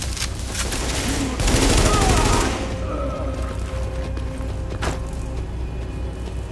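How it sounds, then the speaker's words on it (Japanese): Video game gunfire in a post-apocalyptic Lower Manhattan setting: a dense burst of rapid automatic shots and booms, loud and close, fading into scattered softer impacts and ambient noise. "今の銃声はお前だよな。"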